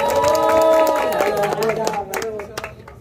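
Audience at a Foz do Iguaçu rap battle claps and cheers for rapper Nocturne, a loud mixed roar of shouts and handclaps that thins into scattered claps and calls over three seconds.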